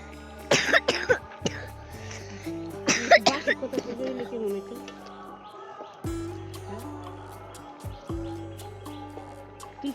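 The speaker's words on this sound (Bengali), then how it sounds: "আমার ছেলের কাশি হয়েছে" A child coughs in several short, harsh bursts near the microphone, with a low hum and quiet background sounds between them.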